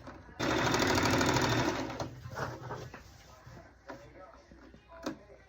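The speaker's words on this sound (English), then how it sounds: "So sew exactly where you pinned it." A sewing machine runs a straight seam with back stitching through fabric for a car seat cover, a loud rapid whirring burst at the start that slows into scattered mechanical clicks and thumps as it stops.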